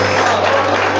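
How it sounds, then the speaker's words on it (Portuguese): Loud, full applause from a church congregation, close and dense, sustained without a break under a steady low hum. "Pode aplaudir bem forte."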